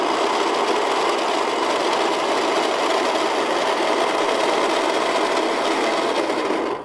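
A Baratza Encore coffee grinder runs on cleaning tablets, a loud continuous raspy whirring grind that holds steady for several seconds and then cuts off abruptly.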